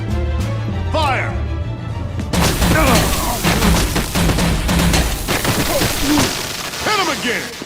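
Loud volleys of gunfire erupt in Batman: The Enemy Within, a burst of many rapid shots with sharp cracks continuing for several seconds after a brief lull, with voices heard among the shooting.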